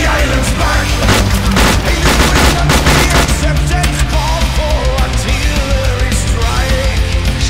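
Bombs going off in the military shooter ArmA II, a dense, loud barrage of booms and rattling blasts that keeps going without a break, packed with crackling gunfire-like bursts.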